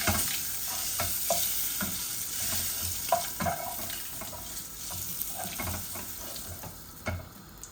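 Chicken curry with beans being stirred and fried in oil, a spoon scraping the pan in steady, uneven strokes over a constant close sizzle, with no talk.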